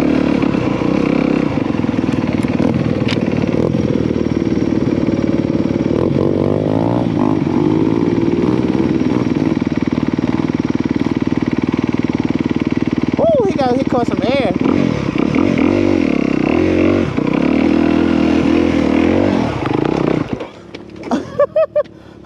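A 2022 Honda CRF250R dirt bike rides along trails, its engine holding a steady, close buzzing drone that wavers with the throttle before cutting out into a few brief knocks at the end.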